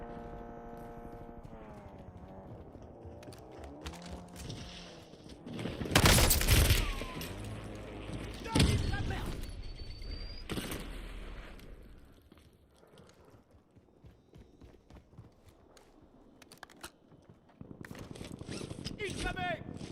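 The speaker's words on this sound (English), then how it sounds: "Hostile airstrike incoming." Hostile airstrike explosions and gunfire in a video game, with several loud booming blasts and sharp shots rising over game music and announcer voices, then fading to quieter rumble before more bursts near the end.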